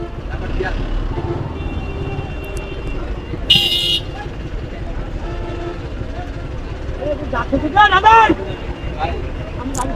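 Congested road traffic in Jashore, Bangladesh, with a steady engine rumble, brief horn toots around the fourth and eighth seconds, and someone talking over the din.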